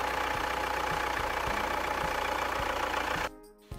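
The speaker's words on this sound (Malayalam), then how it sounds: "ഇതാണ് നിങ്ങളിപ്പോൾ കേൾക്കുന്നതാണ് ഇതിൻ്റെ എൻജിൻ നോയ്സ്." A Tata Xenon Yodha with a 3-litre common rail diesel engine idles close by with a steady, rough clatter and a regular knock, then cuts off abruptly near the end, leaving quieter background noise.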